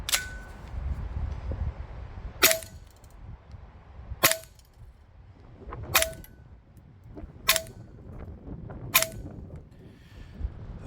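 A Krytac Maxim 9 gas blowback airsoft pistol fires 0.25 gram BBs on green gas: six sharp, snapping cracks spaced a second or two apart, each with a quick metallic clack of the slide, close and loud over a quiet outdoor background.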